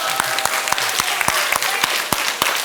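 A crowd at a school anti-bullying presentation applauds steadily, with sharp individual claps standing out through the continuous wash of clapping.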